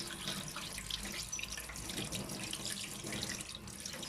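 Tap water runs steadily over sardines being cleaned in a sink, a close, continuous splashing stream with no pauses.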